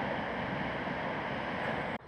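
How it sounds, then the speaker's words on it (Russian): Steady rushing water, a constant broadband roar from a small roadside waterfall nearby in Yellowstone National Park, cutting off abruptly near the end. "Вот такой водопадик."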